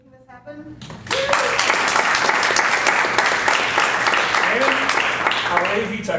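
A voice speaks briefly before an audience at a weather-data users' workshop breaks into loud, sustained applause for an organizer, dense clapping holding steady to the end with faint speech underneath.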